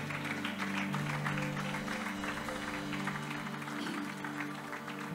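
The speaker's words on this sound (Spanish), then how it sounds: "Démosle una ofrenda de palmas a nuestro Rey" Church congregation applauding during an anniversary praise and worship service, with sustained clapping over a held keyboard chord that hums underneath for the full length.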